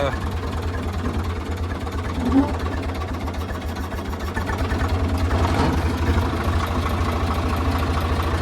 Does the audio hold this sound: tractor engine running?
yes